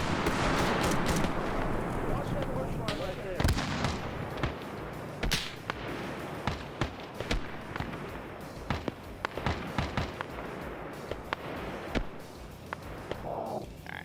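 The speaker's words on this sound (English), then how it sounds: "This is just for ambient explosions, sounds and whatnot." Scattered video-game explosions and sharp blasts pop at varying distances, some booming, others crackling like distant gunfire, over a continuous low rumble with faint voices mixed in.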